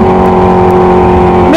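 A Kawasaki H2 supercharged motorcycle with a third-party full exhaust revs loudly up close, a steady droning engine note climbing sharply right at the end.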